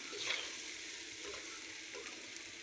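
Prawns sizzle in a pan with chili powder and spice masala while being stirred, a steady close frying hiss with soft scraping pulses from the stirring.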